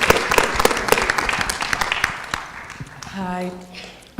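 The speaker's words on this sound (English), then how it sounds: "Nice round of applause for our sponsor," Scattered clapping from an audience at a film festival Q&A panel honoring the event sponsor, lasting a few seconds before a voice begins speaking.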